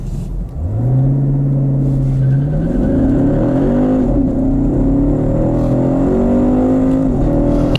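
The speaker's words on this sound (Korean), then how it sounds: "여기서 잠시 발진 가속 성능도 한번 알아볼까요?" A 2018 Chevrolet Camaro SS launches hard from a standstill, its loud engine roaring through a rising gear, a brief dip, then climbing again through further gears in a sustained close rumble.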